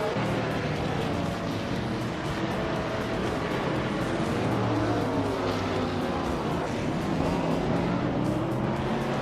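Video-game race cars roar steadily for nine seconds, with layered engine whines rising and falling as several cars run nose to tail in close competition, loud and continuous without any voices.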